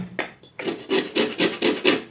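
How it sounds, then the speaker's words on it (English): The top of a lemon is grated by hand, producing a series of six or so quick, close rasping strokes in a steady rhythm with short pauses between them. "So the lemon, I'm going to grate it a little bit for the taste, the top part."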